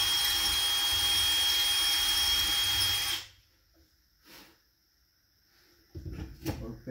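Power drill boring and reaming a slightly loose hole, a loud steady whine for about three seconds that stops abruptly, followed by faint handling noises and a few clunks.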